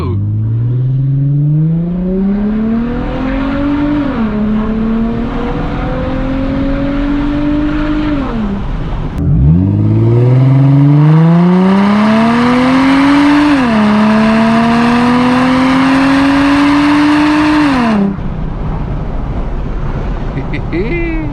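An Infiniti G35 with a muffler delete revs and accelerates hard through two long pulls, its raspy exhaust climbing in pitch with gear shifts, loud and close over wind noise.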